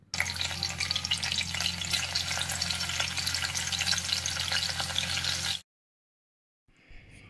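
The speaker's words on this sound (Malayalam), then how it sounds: "അപ്പോൾ ഞാനിപ്പോൾ ആദ്യം വെളുത്തുള്ളി ഇഞ്ചിയാണ് ഇട്ട് കൊടുക്കുന്നത്." Garlic and ginger frying in hot coconut oil for an egg scramble, giving a dense, steady sizzle for about five seconds before cutting to silence, then a faint stir.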